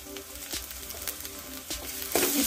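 Red chili powder, coriander, cumin and asafoetida fry in a pan, a soft continuous sizzle broken by a few sharp scraping stirs and a louder burst of frying near the end.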